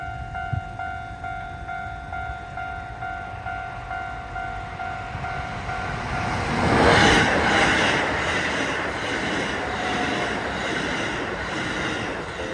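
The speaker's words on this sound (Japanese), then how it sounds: "列車が1本やってきますので" A train approaches and rumbles past a level crossing near the Kurihama works, growing louder midway with rhythmic clattering of wheels, then continuing as a steady roar.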